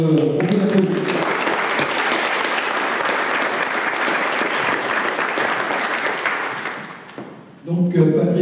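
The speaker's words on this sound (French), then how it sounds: "Et donc, on peut l'applaudir" Sustained audience applause at a prize ceremony of the Légion d'Honneur members' society in Le Mans, dense and steady for several seconds, fading near the end before a voice resumes.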